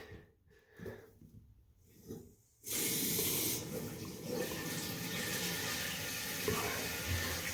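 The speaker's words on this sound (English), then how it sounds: "so now I'm ready to put my water on and fill the tank" Water rushes from a supply line into a newly installed toilet's tank, starting abruptly after a few seconds of quiet and continuing as a loud, steady broadband hiss close by.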